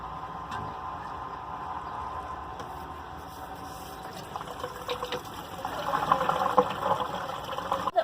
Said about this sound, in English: all the water in the machine will be pumped out